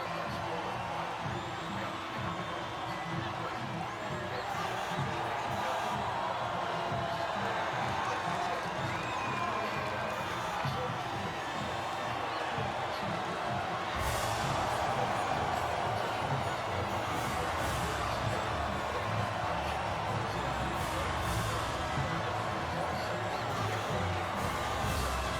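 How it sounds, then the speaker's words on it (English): A large crowd roars and cheers steadily around the podium after the Singapore Grand Prix in the F1 video game, a dense, continuous wash of far-off voices with no break and nobody speaking over it. "And absorbing the acclaim of the crowd, George Russell on the top spot."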